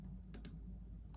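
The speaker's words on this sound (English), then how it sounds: "Control right click and then paste." A few quick, faint computer mouse clicks, crisp and close, in a quiet room without talk.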